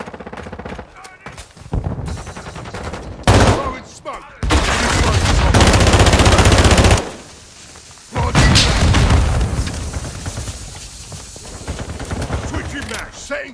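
Heavy Call of Duty gunfire rattles in loud bursts, with a long sustained volley of rapid shots and booming impacts, broken by brief lulls and a few shouted voices.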